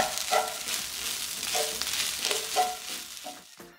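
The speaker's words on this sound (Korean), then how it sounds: "밥알이 하나씩 풀어질 때까지 볶은 후 간 보고 소금 한 꼬집 넣고" Rice stir-fried in a pan with canned tuna and oyster sauce, a steady sizzle broken by periodic scraping and tossing strokes from a spatula, close and moderately loud, with no talking.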